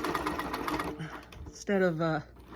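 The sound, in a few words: quilting machine stitching fabric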